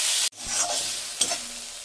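Onion, garlic and tomato fry in a wok, giving a close, bright sizzle with stirring scrapes. It cuts in suddenly after a short burst and carries on steadily with no talking.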